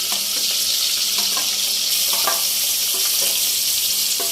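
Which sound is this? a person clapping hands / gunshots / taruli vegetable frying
taruli vegetable frying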